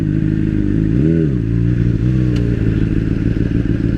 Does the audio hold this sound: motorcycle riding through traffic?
yes